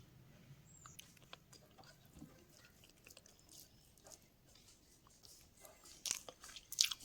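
Someone eats temple-style puliyodharai, a tamarind rice flavoured with roasted sesame and coriander. Faint, soft chewing and small crunchy clicks sit in a quiet room, growing briefly louder near the end, with no talking.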